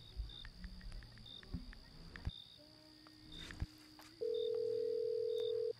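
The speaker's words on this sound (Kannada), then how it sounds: "ರಿಂಗ್ ಆಗ್ತಿದೆ." A phone ringback tone sounds during an outgoing call in a short film, a single steady electronic tone near the end after a quiet, faintly noisy room.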